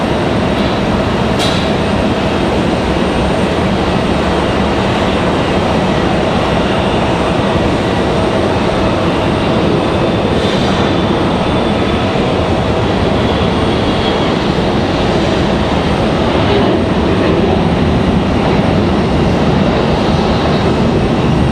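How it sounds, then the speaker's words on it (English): An Air Canada jet departing Raleigh-Durham International Airport right after an Aeromexico flight, a loud continuous broadband engine roar holding steady throughout with no voices. "We've got Air Canada going to follow Aeromexico out"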